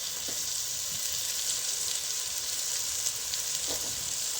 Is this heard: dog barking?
no